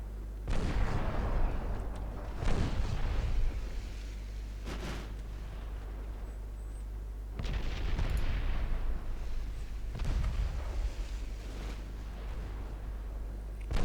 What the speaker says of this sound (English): Torpedo detonation aboard Prometheus.